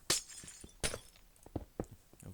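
Glass blocks break one after another in Minecraft, sounding as several sharp, bright shattering crashes with soft thumps in between, quiet and close, with no speech.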